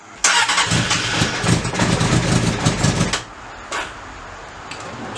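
A Honda CBR600 motorcycle, sitting unused for months, cranks and fires up loudly nearby, running roughly for about three seconds before cutting out, followed by a brief faint knock.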